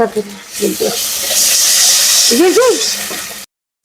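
Water poured into a hot pan of frying onion, garlic and coriander paste while cooking fish, giving a broad hiss and sizzle over a few seconds, with a voice talking briefly underneath.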